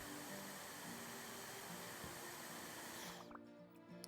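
Vacuum cleaner in the video game House Flipper 2, a loud steady whooshing hiss running continuously, then cutting off abruptly near the end, leaving a brief quieter tail.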